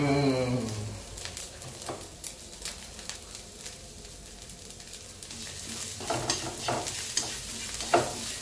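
Bitter eggplant being stir-fried with browned dried fish in a pan, with continuous close sizzling and scattered clatters and scrapes of a spatula as the mixture is stirred.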